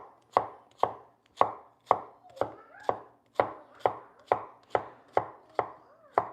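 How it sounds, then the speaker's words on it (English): Knife chopping zucchini diagonally on a cutting board, about a dozen sharp, evenly spaced thunks in a steady rhythm, close and clear with no talk. "you turn it diagonally and you just chop this way"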